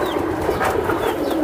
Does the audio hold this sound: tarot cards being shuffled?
no